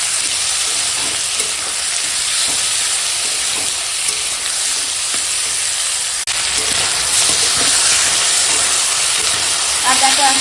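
Vegetables and spices, tomato, drumstick and potato with salt, sauté in a pan for a Bengali curry, giving a loud, constant sizzling hiss with occasional stirring scrapes and no talking.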